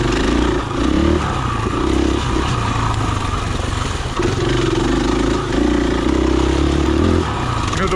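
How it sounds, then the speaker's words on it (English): A KTM 500 EXC-F four-stroke dirt bike engine pulls steadily in third gear on a rooty, rocky trail, a loud continuous drone with small surges and clatter, with no talk over it. "the motor is still plenty capable of pulling third gear, and it gets a ton of traction"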